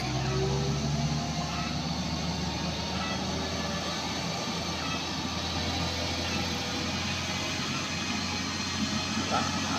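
A truck engine labors steadily up the steep Kedabuhan incline, a continuous low droning growl held under load with a moderate, even level and faint voices in the background.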